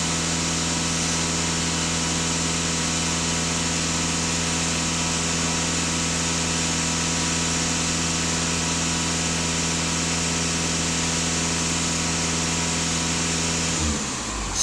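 A Volkswagen Passat B8 diesel engine runs steadily and loud at close range with strong low harmonic hum, held at raised revs throughout before dropping off near the end.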